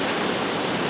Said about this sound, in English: the high surf and powerful waves weren't exactly exciting for everyone